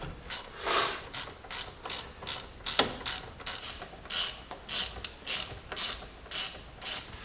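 Bolts being run down with a ratchet on a Jeep Dana 30/44 front brake caliper, a steady series of quick metallic clicking bursts repeating through the clip, close and fairly loud, with no talk.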